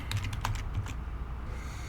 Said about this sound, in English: So I'm going to go here and I'm going to type in 2056 Nottingham.